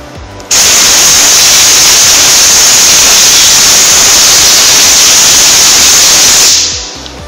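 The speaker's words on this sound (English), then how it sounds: "Blow off the air cap and reconnect it to the spray gun." A blow gun blasts compressed air over the air cap of an E300A spray gun during cleaning, a loud steady hiss that starts abruptly, holds for about six seconds, then tapers off.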